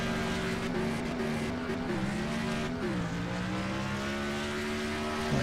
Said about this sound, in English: There's somebody revving their engine there.